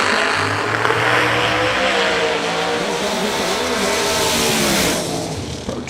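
A ProCharger-boosted drag race car at the Yellow Bullet Nationals launches and accelerates down the track, a loud, sustained supercharged engine roar rising in pitch and fading slightly near the end, with no talk.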